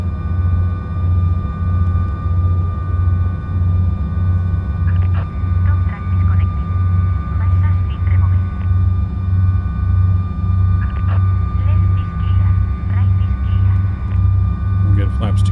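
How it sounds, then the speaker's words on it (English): Embraer E190 jet engines in Microsoft Flight Simulator, a loud, steady droning hum with a low pulsing throb and a constant whine, with faint clicks and a voice speaking over it at times. "I do like the engine sounds on this plane."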